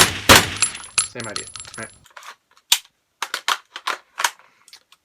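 A gas blowback airsoft rifle prop is chambered with a sharp metallic clack, then a run of light clicks and rattles, close and loud. Someone briefly speaks near the start.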